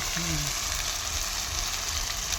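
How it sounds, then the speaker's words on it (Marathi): Steady, loud sizzle of a garlic and coconut paste frying in a pan over a wood-fired stove, a continuous hiss without pauses. "लसूण खोबऱ्याचं वाटण"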